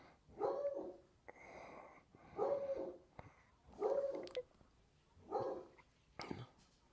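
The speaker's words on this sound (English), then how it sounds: "I hear the dog" A dog barks faintly five times, evenly spaced about a second and a half apart, each one a short, soft woof with quiet gaps between.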